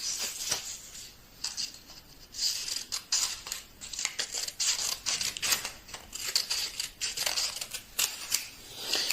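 Scissors snip through paper while a title is cut out by hand, a continuous close stream of crisp slicing and rustling strokes with brief pauses, no voices.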